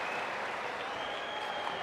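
A crowd at a FIBA U19 World Championship basketball quarter-final between Spain and Greece applauds steadily, a dense even wash of clapping that fills the arena throughout.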